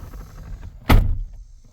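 A Ram pickup truck door swings shut with a single loud, solid thunk partway through, followed by a short low rumble inside the cab, no one speaking.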